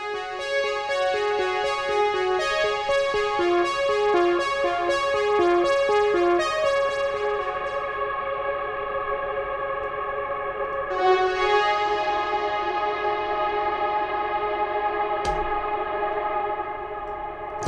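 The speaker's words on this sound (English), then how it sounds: "we can also freeze the reverb here, so it kind of takes a snapshot of the reverb when you click freeze, and it just holds that out" Baby Audio Crystalline reverb plugin with its freeze engaged, holding a shimmering, sustained wash of layered tones after the played notes stop, ringing on steadily with an echoing, synthetic texture.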